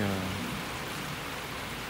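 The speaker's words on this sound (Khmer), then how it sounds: "ហើយនេះភ្លៀងធំ នៅកន្លែងធ្វើការខ្ញុំទើបតែធ្លាក់មកហើយ" Heavy rain falling at a workplace, a steady, soft wash of broadband hiss that carries on evenly throughout, with a faint low hum near the start.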